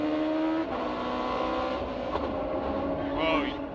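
Onboard engine of a 2004 IndyCar running with traction control, a high-pitched engine note that wavers and stutters as the system cuts in, heard alongside commentary voices.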